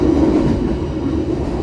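A passenger train on the Surabaya–Banyuwangi line rumbles loudly along the rails, heard from inside a business-class carriage as a constant heavy roll without talk.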